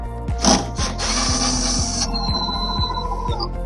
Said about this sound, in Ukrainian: Ось так вони збираються. На шурупи, замкове з'єднання.